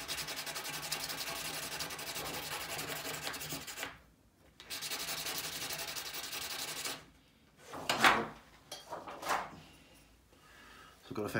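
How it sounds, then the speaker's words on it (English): A pastel pencil is sharpened by rubbing its tip on pastel paper, giving close, steady scratchy strokes that stop briefly, then resume in short rasping bursts; a voice speaks in between. "Sandpaper would be better than this old pastel paper."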